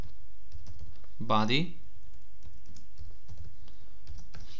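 Faint keyboard typing while CSS code is entered on a computer, soft scattered clicks at low level, interrupted by a single brief spoken word.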